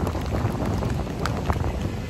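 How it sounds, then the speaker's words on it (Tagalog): Heavy rain pours down outdoors along Manila Bay, a steady dense hiss with scattered drops and some wind buffeting the microphone. "Grabe, lakas ng ulan."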